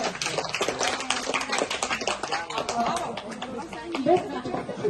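An audience applauds the winners at an awards ceremony for an international STEM camp school project, a dense patter of clapping running throughout beneath lively chatter and talk.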